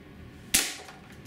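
A single sharp pop from a Benjamin HB22 .22 caliber multi-pump pellet pistol, one short crack with a brief decaying tail, fairly close and alone with no talk.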